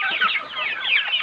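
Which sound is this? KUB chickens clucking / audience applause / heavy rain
KUB chickens clucking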